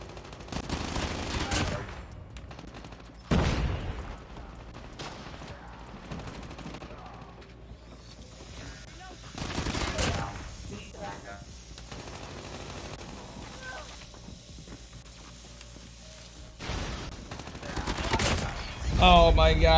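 MSMC gunfire in Call of Duty Mobile comes in several short, sharp bursts of rapid shots spread across the stretch, separated by quieter gaps of game ambience and faint in-game sounds.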